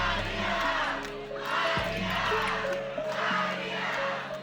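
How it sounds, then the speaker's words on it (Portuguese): A large crowd at an organised event shouts a name in unison, a loud, dense roar of many voices rising and falling in repeated waves. "quem tá gritando o nome do MT"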